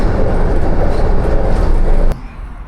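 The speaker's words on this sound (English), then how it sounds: "Now I'm gonna get back on the historic tram" Historic tram rumbling along in Brussels, a loud, steady rolling clatter of wheels on rails with interior rattle that cuts off abruptly near the end, leaving quieter background noise.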